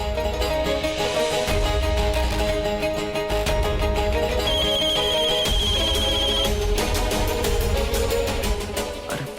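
A steady electronic ringtone plays over loud music, its tone repeating without a break for several seconds.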